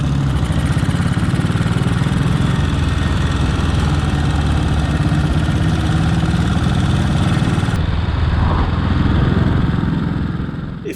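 Three motorcycles idling together in a rough, steady, loud rumble close by, continuous throughout with slight fluctuation near the end.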